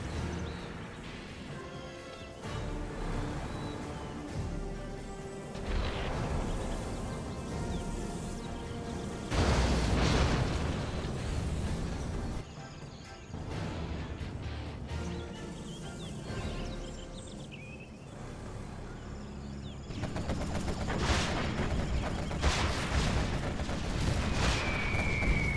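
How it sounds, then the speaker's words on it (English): A video game battle rumbles with artillery fire and explosions, repeated heavy booms and blasts at irregular intervals over a continuous dense background of game sound, with no talk. "Artillery coming through."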